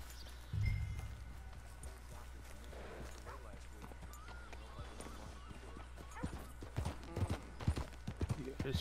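Rhythmic hoofbeats clop along under people talking in the video game Red Dead Redemption 2 Online, growing louder and quicker toward the end like a horse breaking into a run.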